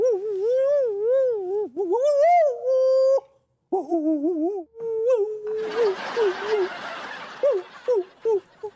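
A dog whimpers and howls in long, wavering, rising and falling cries broken by short pauses, ending in a few brief yelps, loud and close.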